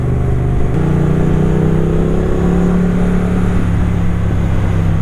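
A 2020 Triumph Bonneville Street Twin 900cc motorcycle engine rumbles loudly and steadily nearby, its low growling note rising in pitch as the engine revs, with no voices over it.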